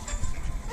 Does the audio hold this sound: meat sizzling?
no